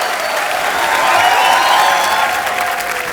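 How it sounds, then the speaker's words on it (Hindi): A television comedy show studio audience bursts into loud, sustained applause, a dense steady clatter of many clapping hands that swells slightly in the middle and holds for several seconds. "जोरदार तालियां एक बार।"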